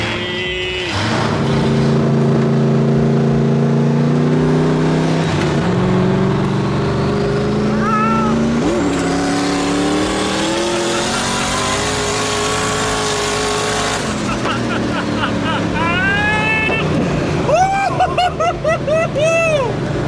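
Race car heading out onto the track at a Powercruise event, its engine droning and rising in pitch as it accelerates, with revving climbs toward the end, loud and close beneath people talking.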